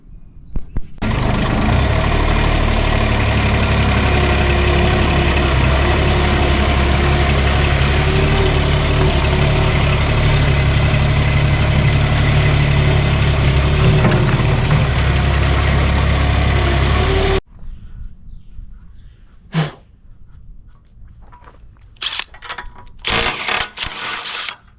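A Kubota KX080 excavator engine runs loud and steady while its quick coupler is switched, then cuts out abruptly, leaving a quiet stretch broken by a few sharp metallic clanks.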